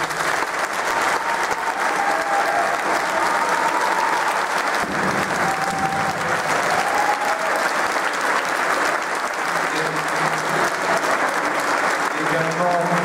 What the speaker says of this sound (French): Il faut les applaudir encore.